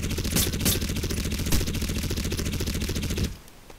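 Rapid automatic gunfire in Crysis, a dense stream of close, loud shots rattling for about three seconds, then cutting off to quiet.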